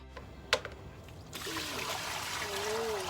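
Plain water pours onto used coffee grounds, a soft, steady trickle that starts after a brief clink and continues close and fairly quiet, with a voice speaking briefly over it.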